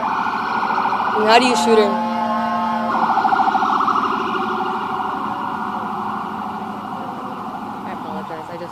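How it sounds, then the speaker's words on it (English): Emergency sirens wail briefly in the background, then fade to a lower steady tone while a person talks over them. "I just don't want sirens while you're talking about it."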